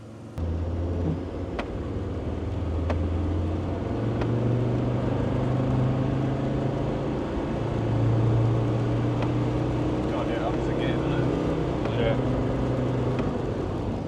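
A Land Rover Td5 with a GTB450 gearbox on a road test, its engine droning steadily as it pulls along, with shifting engine pitch and a continuous low road rumble while people talk over it throughout.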